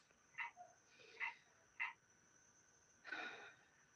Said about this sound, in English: The frog. Okay, I know y'all hear it.